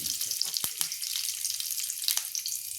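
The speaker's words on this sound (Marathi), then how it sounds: "आता आपण चवळीची उसळ फोडणीला घालूया। कढीपत्ता घालतोय," Curry leaves sizzle in hot oil while tempering cowpea usal, a steady bright crackle with a sharp pop near the start, close and alone with no talk.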